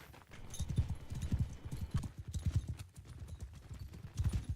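Horse hooves galloping in a competitive multiplayer video game match, a rapid, continuous clip-clop rhythm, quiet and low-pitched, running steadily throughout with faint background sounds.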